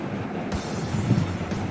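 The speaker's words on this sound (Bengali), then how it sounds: "ভালোই গতিতে ছুটছে আমাদের ট্রেন" A train rumbles steadily along the tracks, heard from inside the carriage as a dense, continuous roar with faint rhythmic clatter.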